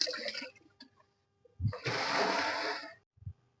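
Water pouring into a washing machine tub from a small bucket, a loud close splashing gush that starts, stops briefly, then runs steadily for over a second before cutting off, with a few small knocks around it.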